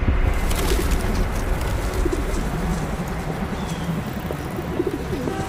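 Pigeons coo in soft, repeated throaty calls that rise and fall against a steady outdoor background hum, fairly close and continuing throughout.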